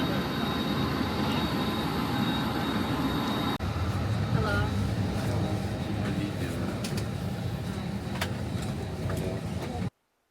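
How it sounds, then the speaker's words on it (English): Airliner cabin during takeoff on a domestic flight departing Kayseri for Istanbul, a steady loud engine roar and rumble filling the whole stretch, with faint talk in the background. "Unlike the other flights, this was domestic, and we had a really safe takeoff."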